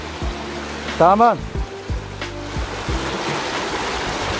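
A mountain stream flows through Deokpung valley canyon in a steady, broad rush of water, heard under a person talking nearby.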